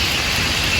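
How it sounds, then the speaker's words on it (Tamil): Rain falls in Wayanad with a dense, steady hiss that stays uniform throughout this short moment. "மழை பெய்யுது. மழை பெய்ய ஆரம்பிச்சிச்சு."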